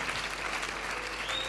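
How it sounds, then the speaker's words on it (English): A congregation applauds, clapping for Jesus at a church gathering; a dense, steady wash of many hands clapping, moderately loud and continuous through the short moment. "Let's clap for Jesus."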